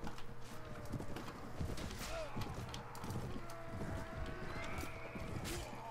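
Cavalry horses in the medieval video game AD1257 patter with quick, irregular hoof clops at moderate distance while a person talks over them.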